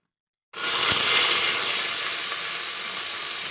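Chopped onion dropped into a hot pan for vegetable pulao bursts into a loud, steady sizzling hiss that starts abruptly and holds strong, with no talking over it.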